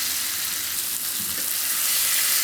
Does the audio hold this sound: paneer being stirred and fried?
yes